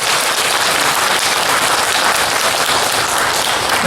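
A church congregation at a Sunday service claps warmly in loud, dense, sustained applause that fills the room evenly from start to finish.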